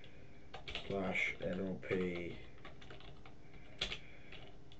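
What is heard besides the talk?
typing on a computer keyboard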